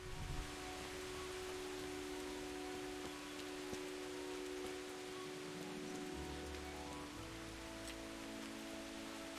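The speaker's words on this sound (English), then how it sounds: "It rains a lot in Bohemia," Steady rain falls in the open world of the Kingdom Come video game, set in Bohemia, as an even hiss that runs unbroken through the whole stretch, with low game ambience beneath it and no talking.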